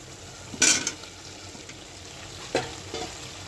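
Potatoes tumble into a pot of vegetable stems sautéing for a lentil curry, giving a quick clattering sizzle burst followed later by a second, softer splash-and-fry over a low steady background.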